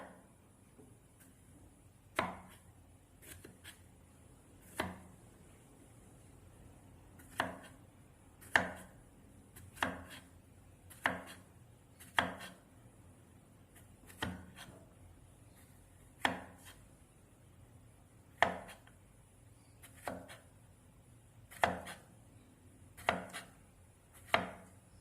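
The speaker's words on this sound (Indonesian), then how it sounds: "lalu dilakukan potongannya sampai terakhir" Knife chopping food on a board, a steady series of sharp, distinct chops at irregular intervals over quiet background, fairly close, with no talking.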